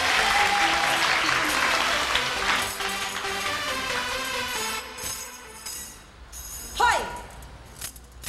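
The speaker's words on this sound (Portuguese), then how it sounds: "Aplausos." An audience at a children's magic show claps in a dense burst that fades gradually over several seconds, with voices and music heard alongside and a brief tonal sweep near the end.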